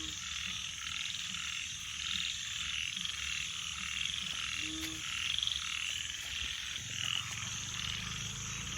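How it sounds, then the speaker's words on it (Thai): Frogs croak steadily at night, a dense chorus of repeated calls over a constant high insect-like drone, moderately close with no talking. "เหมือนได้ยินเสียงกบร้องนะตรงนี้ทุกคน"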